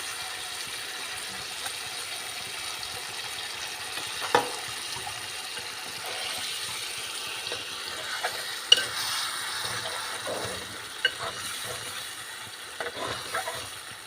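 A spoon gently moves fish pieces through a simmering tamarind curry, Andhra-style fish pulusu, making soft scraping and bubbling sounds over a steady low sizzle, with a few light clinks against the pot.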